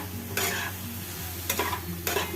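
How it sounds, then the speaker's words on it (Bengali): Vegetables are stirred in a hot pan for a thin Bengali hilsa fish curry with eggplant, with a steady sizzle under three bursts of utensil scraping against the pan. "নাড়াচাড়া করে নিয়ে ভালো মতন"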